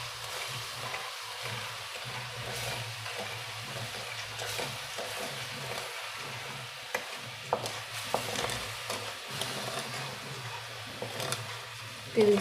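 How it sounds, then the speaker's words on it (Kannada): Sugar melting in a little water in a pan is stirred continuously, a soft bubbling simmer with faint scraping of the spoon and a few light knocks, quiet and close. "ತಿರುಗಿಸ್ತಾನೇ ಇರಬೇಕು"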